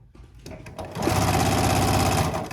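A sewing machine stitches a folded fleece qaspeq hem. Close by, it opens with a few soft handling taps, then runs as a steady, rapid mechanical whir for the last second and a half.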